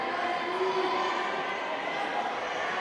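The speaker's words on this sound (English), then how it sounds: "the crowd is getting louder again" Spectators at the U19 bouldering qualifications in Sukoro, 2025, make a continuous low crowd murmur with faint cheering, steady and somewhat distant, with no clear surge.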